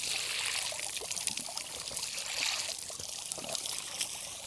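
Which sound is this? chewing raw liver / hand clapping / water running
water running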